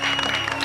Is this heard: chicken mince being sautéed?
no